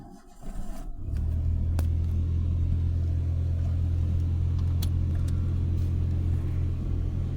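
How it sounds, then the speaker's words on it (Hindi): Car engine hum and low road rumble from inside a moving car, starting after a second and holding steady and loud, with faint clicks and no talking. "देख सकते हैं गाइस गाड़ी चला रहा हूँ"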